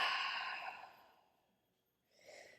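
A long, breathy exhale during a hamstring stretching exercise, soft and close, trailing off into near silence before a fainter breath follows.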